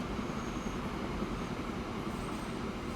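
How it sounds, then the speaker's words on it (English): A train pulling into a station in Transport Fever 2, giving a steady low rumble of rolling wagons at moderate level that carries on without a break for three seconds, with a faint high squeal on top. "Here comes this train"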